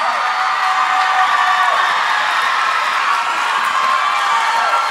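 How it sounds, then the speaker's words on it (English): Large audience at a dance competition cheering and whooping for two senior dancers, a steady dense roar of crowd noise and shouts held loud throughout without a break. "Give our two seniors another big round of applause."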